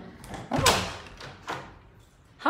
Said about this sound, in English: Oh my God, there's someone at the door.